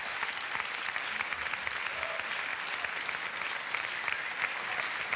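A studio audience claps steadily and warmly as a televised performance ends and the performers bow, a dense, even sheet of applause lasting several seconds with no voices over it.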